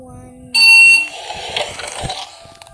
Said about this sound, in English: The beeping sound.